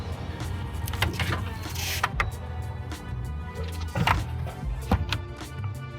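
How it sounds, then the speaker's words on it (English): Power liftgate on a 2024 Subaru Levorg STI Sport opening: a steady motor whir with a few clunks and thuds from the latch and hinges, heard close up. "So it's got a power liftgate."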